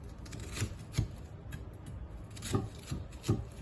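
A knife cuts a vegetable close to the root with a few soft, uneven slicing and scraping strokes, quiet and close.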